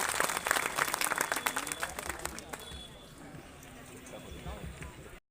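Applause from a crowd welcoming a state minister at a groundbreaking ceremony in Biaora, loud at first with dense clapping, then gradually thinning and fading out over several seconds.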